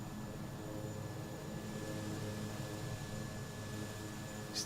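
Steady broadband aircraft engine drone from a plane doing a flyby and go-around in Microsoft Flight Simulator, continuous and moderately loud throughout, with a brief brighter burst right at the end.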